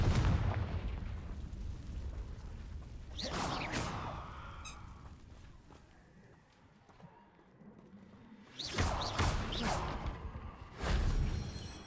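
Confringo fire spell blasts in the video game Hogwarts Legacy, several loud whooshing explosive bursts spaced apart over a rumbling game soundscape.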